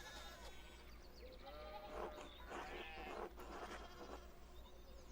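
Sheep bleat several times over a farm in the video game Pentiment, wavering calls in a cluster that are fairly faint over a constant low background drone.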